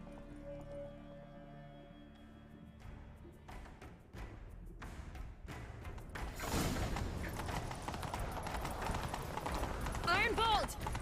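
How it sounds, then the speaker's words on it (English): Horse hooves clip-clop and gallop at a steady pace in The Witcher 3 video game, heard under music and game sounds that swell midway, with a brief whinny near the end. "Grab a horse, we'll chase him down."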